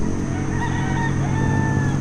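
Roosters and chickens at a chicken farm in Marilaki make a dense, constant din of overlapping clucks and crowing, heard close and loud over a steady background rumble.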